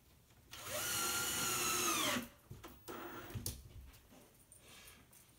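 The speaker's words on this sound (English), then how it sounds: "When you put in these screws, you want to go not too deep." A power drill drives a screw into drywall for a closet build, a close motor whine that climbs in pitch over about a second and a half and then cuts off, followed by a few faint knocks and scrapes.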